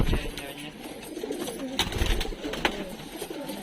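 Pigeons coo softly inside a coop, with low, throaty, rolling calls repeating under a steady background rustle and a faint murmur of a voice.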